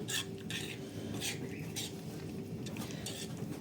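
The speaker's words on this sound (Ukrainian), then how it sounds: "Зараз я розмішаю" A spoon scrapes and clinks against a pan while meatballs are stirred in a sour cream sauce, with a steady run of soft rhythmic scraping and a low background hum throughout.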